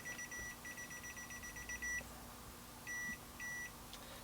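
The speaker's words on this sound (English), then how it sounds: "you can hear the beeper, I think" Redfish iDVM550 clamp meter in non-contact voltage mode beeps: a rapid string of short, thin electronic pips for about two seconds, then two longer steady tones after a pause, close and clear over faint background hum.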